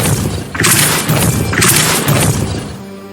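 A Depulso spell cast in Hogwarts Legacy, a loud booming crash with shattering debris, two heavy bursts in quick succession that fade into a rumbling tail.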